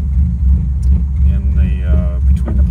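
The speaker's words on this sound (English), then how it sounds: "if I put it in a neutral and let out the clutch, if the release bearing is going, you kind of hear that" A 1959 Lancia Appia Zagato GTE engine idles in neutral with the clutch released, a loud, steady low rumble that holds close and even throughout, while someone talks over it.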